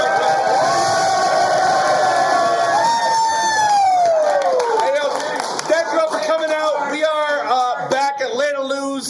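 A club crowd cheers after a live rap battle at a Heatwave event, loud sustained shouts and whoops with scattered clapping that rise and then break into excited yells.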